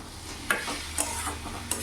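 Chopped tomato stirred into eggplant frying for a bhuna, a quiet sizzle with a few spoon scrapes and taps at a steady rhythm.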